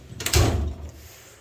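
A drawer of a Harbor Freight 56-inch tool box slides open, a single short rolling scrape with a soft thud at the end, close and moderately quiet.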